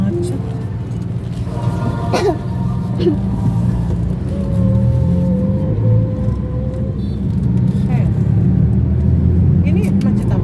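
Steady low engine rumble and road noise inside a car crawling through a traffic jam, with a constant drone, occasional small clicks, and people talking in the cabin over it.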